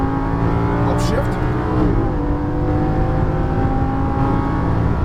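A Lamborghini Gallardo LP550-2 accelerating on a race track, its engine note loud and close with a rising, sustained roar and rich harmonics, while a driving instructor talks over it.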